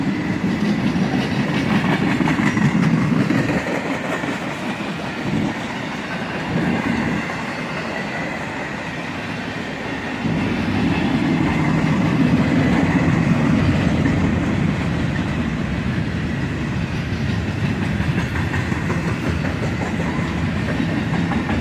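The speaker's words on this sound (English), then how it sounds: "And now we're into a pretty decent sized cut of empty cars." A long freight train of empty cars passes close by, a sustained loud rumble and rattle of wheels with rhythmic clickety-clack rising and easing over time.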